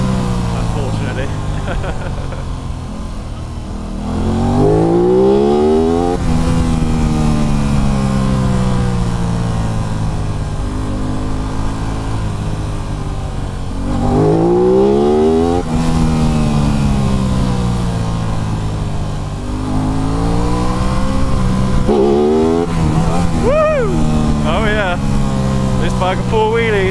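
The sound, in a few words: Aprilia RS 660 motorcycle accelerating hard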